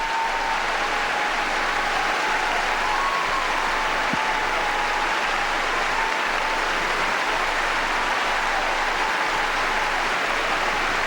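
Sustained, dense applause from a large arena crowd giving a standing ovation at the 2007 World Figure Skating Championships after a pairs free skate, steady and roaring throughout with no talk over it.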